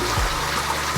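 Water trickles steadily over a waterfall log decoration in a home aquarium, a close, continuous splashing wash with no voices.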